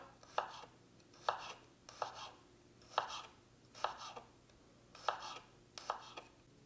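Garlic cloves sliced thinly with a knife on a cutting board: about eight crisp, evenly spaced blade taps against the board, close and clear with no talking.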